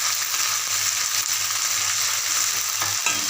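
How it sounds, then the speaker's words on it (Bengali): Sliced bitter gourd frying in hot oil in a pan, giving a continuous loud sizzle with occasional stirring, close up and without any voices. "এবার আমি উচ্ছেগুলো ভাজবো।"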